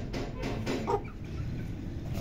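Chickens on a farm where a rooster and hens are kept, with soft clucking under a steady background hum, fairly close and not very loud.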